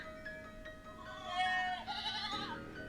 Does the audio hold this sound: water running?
no